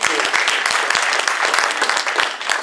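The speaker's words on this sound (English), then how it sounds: "it's okay to clap" Audience applause at a Convention of States Project talk in Hot Springs Village, Arkansas: steady, dense clapping from a crowd filling the whole moment, with no pause.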